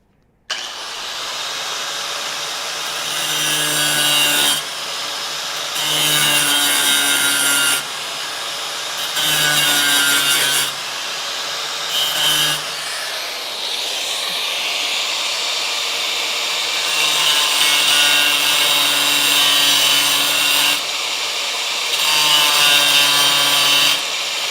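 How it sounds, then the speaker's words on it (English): An abrasive cutoff wheel grinds through a spot weld on a Dodge Charger crew cab car's rocker panel, a loud, sustained high-pitched whine broken into several bursts with brief pauses as the wheel bites in and lifts off. "I might be able to use a cutoff wheel to zap it"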